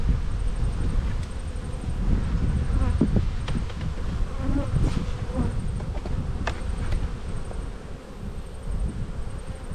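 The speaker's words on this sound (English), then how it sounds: "So we've got bees in the top box" A swarm of honeybees drones steadily from an opened beehive. The close, continuous buzz carries brief louder passes as individual bees fly near, with some wind rumble underneath.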